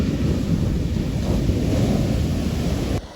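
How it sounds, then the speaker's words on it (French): Sea waves on São Pedro beach, São Vicente, Cape Verde, roar as a steady, loud, continuous low rumble of surf mixed with wind buffeting the microphone, with no voices. "Regardez les vagues."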